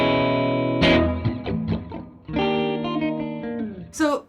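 An electric guitar rings out chords through a Pigtronix Cosmosis stereo reverb pedal set to a modest hall-like reverb, notes sustaining and decaying smoothly, close and clear with no talking.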